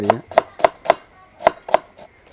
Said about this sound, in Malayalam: ചെറുതായിട്ട് ഇങ്ങനെ കൊത്തി കൊത്തി